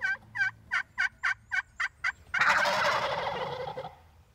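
Wild turkey toms gobble in a wooded field setting, with about eight short, evenly spaced calls followed by a long, loud, rattling gobble that fades out, fairly close with no talk.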